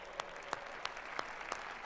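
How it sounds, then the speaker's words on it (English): At a political party gathering where delegations are announced, a few sharp claps land at an even, quick pace, five distinct hits over a quiet background of faint crowd noise. "Big round of applause, please."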